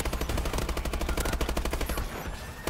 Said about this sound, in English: sentry gun as well